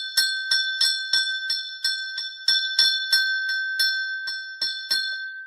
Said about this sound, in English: He gets multiple bell rings.